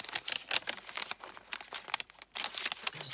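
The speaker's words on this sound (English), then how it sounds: "Crinkle, crinkle, goodness." Vellum paper crinkles and rustles up close in irregular crisp bursts, fairly quiet, with no voice.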